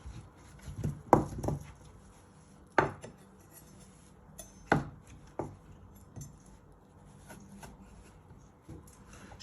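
A knife chops through butternut squash on a board, with a few distinct, forceful thuds spaced a couple of seconds apart and softer cutting and scraping in between, close and otherwise quiet.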